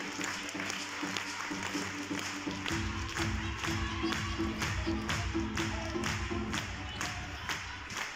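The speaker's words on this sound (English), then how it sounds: "Please applaud the two teams on the court." A handball arena crowd at a women's world championship match applauds the teams, a dense, continuous wash of clapping and murmur filling the hall at steady volume for several seconds.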